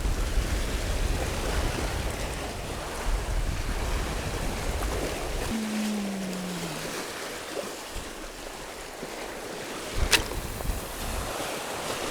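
Heavy surf breaking steadily against a rocky island shoreline during shore fishing on a rough-sea day, a continuous loud wash of waves with wind buffeting the microphone and no talking.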